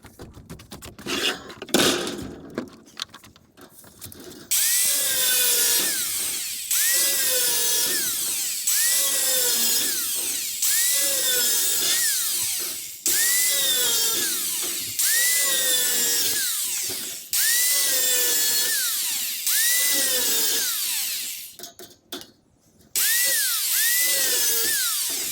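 Wood panels for a screen porch being cut with a power saw, in a series of loud, close cuts, each a whining buzz lasting a couple of seconds with brief pauses between, after some handling clatter at the start.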